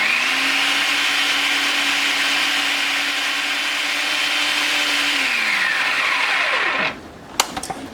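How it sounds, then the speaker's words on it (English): A blender whirs steadily while churning homemade butter with salt, then winds down and stops, ending with a few sharp clicks and knocks. "we're going to blend this a little bit more so this can, the salt can get all through it and get a little bit more of that buttermilk out"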